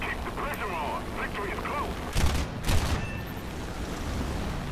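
Two short bursts of aircraft cannon and machine-gun fire from a Ki-61-I-Hei fighter in War Thunder, each lasting a fraction of a second, follow a stretch where someone talks over steady engine drone.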